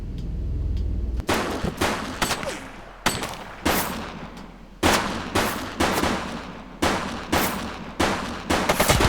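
Rapid bursts of gunfire crack out in a police shooter game, The Precinct, sharp close shots in quick irregular clusters with short gaps between volleys, loud and without talk.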